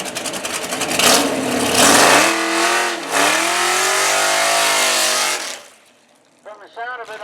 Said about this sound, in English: From the sound of it, I'm going to say it's a Chevy.